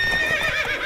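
Roach, Geralt's horse in the video game Witcher 3, gives a single loud, close whinny lasting about a second, with no talk over it.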